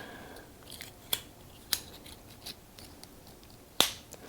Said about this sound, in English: you want it to snap onto the back of the brake pad.